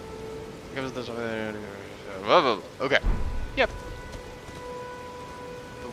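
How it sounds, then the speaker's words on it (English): Steady rain falls across an open landscape in Elden Ring, a soft continuous patter underneath, while a voice speaks briefly over it. "The weather changed. It's rainy now."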